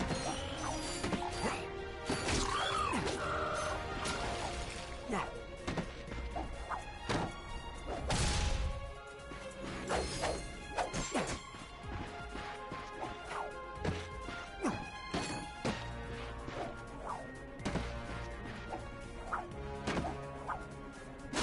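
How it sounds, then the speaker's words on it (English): Ratchet smashes crates in the Ratchet and Clank video game, with a run of sharp crashes and thwacks breaking out over busy mechanical game effects, loud and close with no talking. "Look at him smashing crates."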